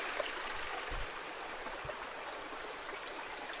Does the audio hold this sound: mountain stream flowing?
yes